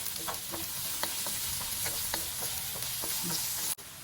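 Onions fry in a pan for chicken gizzard adobo, giving a bright, steady sizzle close by with soft stirring taps, ending in a sudden brief click.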